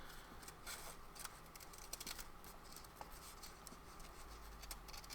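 Scissors cutting through paper journal stickers, quiet close snips and rustling in an irregular series of small clicks, faint and alone with no voice.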